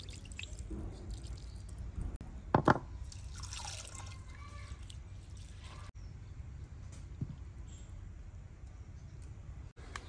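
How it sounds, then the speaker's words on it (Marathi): Rice being rinsed in water in a home kitchen before cooking kadhi pulao: soft, close drips and sloshing, with one brief louder splash partway through, over a low steady background and no talking. "आपलं पाणी गरम होईपर्यंत तांदूळ धुवून घेऊ।"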